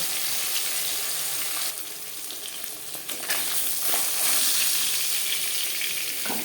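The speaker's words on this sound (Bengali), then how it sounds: "মাছ ভাজা হয়ে গেছে" Rui fish fry in hot oil, a loud, close crackle and hiss that dips briefly then swells again, carrying on without any talk.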